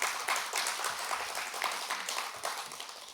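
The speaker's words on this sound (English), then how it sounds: "Let us please give UTT a round of applause for taking this bold step." Audience applause at the opening of a university business school, a steady patter of many hands clapping at moderate level for about three seconds, fairly distant and diffuse with no voices over it.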